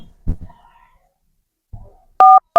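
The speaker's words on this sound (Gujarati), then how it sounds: "આ કોનો ફોન આવી ગયો" A phone rings with two short, loud electronic tone bursts near the end, after a few brief voice-like sounds and a quiet pause.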